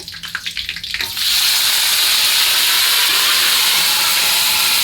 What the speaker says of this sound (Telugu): ఎండుమిర్చి బాగా వేగించుకోవాలి